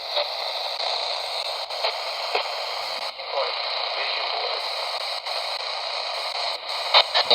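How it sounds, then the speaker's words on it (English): An emergency weather radio hisses with steady static, with faint broadcast sound beneath and a few brief clicks and dropouts. "It's emergency radio."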